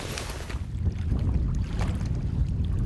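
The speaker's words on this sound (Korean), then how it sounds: "간헐적으로 불어오던 바람이 제법 강하게 밀려온다" Strong gusting wind sweeps across a fishing boat on open water, heard as a heavy low rumble of wind buffeting the microphone that builds after a brief softer start and holds steady.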